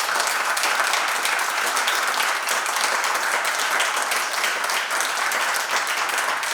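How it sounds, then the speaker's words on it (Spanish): Sustained, dense audience applause greeting a professor at a lecture event, loud and even from start to finish with no talk over it. "os pido un fuerte aplauso"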